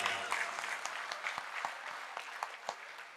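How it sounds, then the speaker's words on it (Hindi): Audience applause at an Urdu mushaira poetry gathering, a steady dense clapping that holds throughout with sharper individual claps standing out, fairly close and loud. "तालियां बजा दीजिए जरा इनके लिए।"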